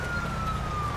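Police siren in the video game LSPDFR, a steady wailing tone held close and loud over low engine rumble.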